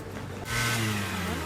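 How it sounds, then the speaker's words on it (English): A moped scooter engine in Santorini, Greece, catches after a brief quiet moment and settles into a buzzing, revving drone that holds fairly close and steady to the end. "We're getting a moped! Little scooters."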